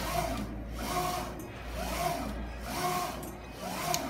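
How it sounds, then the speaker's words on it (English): An MT Refretonic 1807DE eco solvent printer runs a print job, its carriage sweeping back and forth in a steady rhythmic whir roughly once a second, fairly quiet, with no talking. "the machine will continue to printing"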